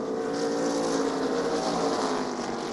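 Onboard an ARCA Menards Series race car at Berlin Raceway, the engine drones loud and steady from inside the cockpit, a continuous throaty roar with little change in throttle.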